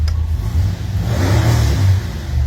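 A 408ci Cleveland V8 revs hard on an engine dyno, a loud, sustained, steady roar with low rumbling throughout, close and alone without talk.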